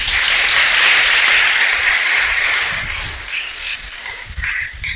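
A church congregation bursts into loud, dense applause that holds strong, then thins out into scattered claps toward the end.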